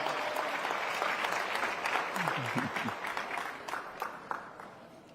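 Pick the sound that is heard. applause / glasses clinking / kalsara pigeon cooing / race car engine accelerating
applause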